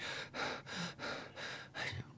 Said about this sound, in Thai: เขาลุกขึ้นมานั่งหอบด้วยความเหนื่อย